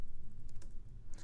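Close, steady typing on a computer keyboard while entering text in the Nano editor at a command line, with rapid clustered key clicks and no voices.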